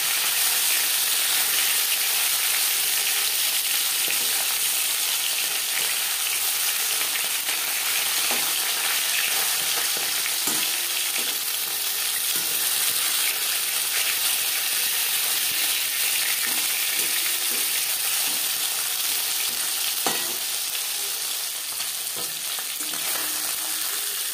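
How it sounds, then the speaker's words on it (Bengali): Snakehead fish fries in a pan of hot oil: a steady, close, dense sizzle runs throughout, with faint scraping and stirring clicks now and then and no talk. "মাছ ভেজে নেওয়া হয়ে গেছে।"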